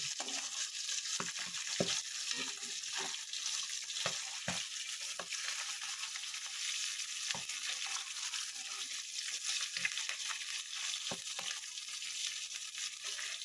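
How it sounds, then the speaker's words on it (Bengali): Tilapia fish frying in oil, a continuous bright sizzle and crackle with intermittent spatter pops and occasional clicks of a utensil, steady and fairly close throughout. "দেখুন এই পিঠটাও মাছ ভাজা হয়ে গেছে"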